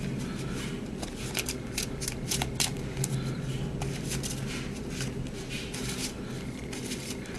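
Yu-Gi-Oh trading cards are shuffled repeatedly up close, a steady run of crisp riffling and flicking snaps with no talking.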